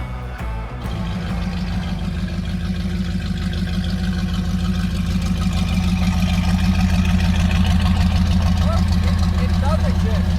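A Jeep's engine runs steadily at a low rumbling idle, loud and close, after a couple of sharp knocks at the start, with a voice speaking faintly over the engine toward the end.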